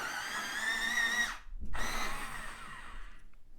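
A warm grey colored pencil is ground in a sharpener in two bursts, a steady whirring grind broken by a brief pause, close and fairly loud with no talking.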